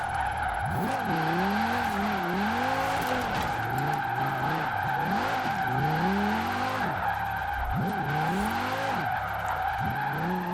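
Forza Horizon 4 car fitted with drift suspension and drag tires, a Cyberpunk 2077 vehicle, sliding through a drift: a loud, continuous tire squeal with wavering pitch rides over a steady engine roar throughout.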